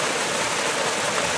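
A waterfall beside a patch of snow heath gives a steady, dense rushing roar, continuous and even, with no voices.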